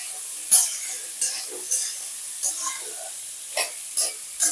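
Sabudana pulao with potato, carrot and green chillies being stirred in a pan, giving a run of soft, uneven scraping strokes over a faint sizzle, close by, with no voices.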